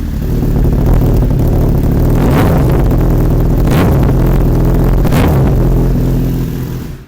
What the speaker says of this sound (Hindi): तो मोटरसाइकिल स्टार्ट हो चुका है इस वक्त,